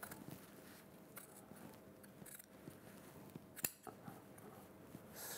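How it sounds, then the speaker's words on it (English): Scissors cut through the collar of a shirt: quiet snipping and crinkling fabric, with one sharp click about two-thirds through and a soft, steady room background. "what I'm going to do is just cut the collar"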